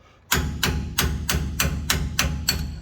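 A dead blow hammer strikes metal front-end brake parts about eight times in a steady rhythm, each blow a heavy, deadened thud with a short metallic edge, close by.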